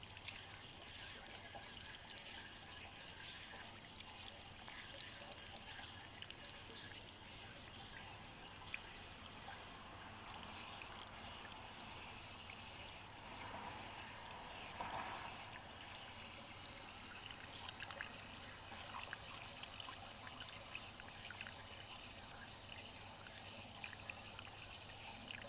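A mixture of waste vegetable oil and kerosene pouring through a filter into a pail, a faint continuous trickling stream that runs steadily throughout.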